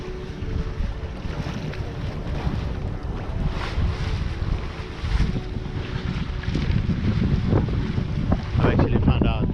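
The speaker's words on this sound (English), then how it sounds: "we have a good wind here" Wind rushes steadily over a small sailboat on open water, with microphone buffeting and low rumbling gusts, and waves wash faintly against the hull throughout, growing slightly stronger toward the end.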